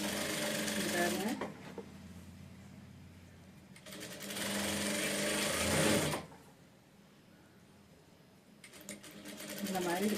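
A sewing machine stitches a blouse border in bursts, whirring loudly for a few seconds, pausing, then running again, with someone talking softly in the gaps.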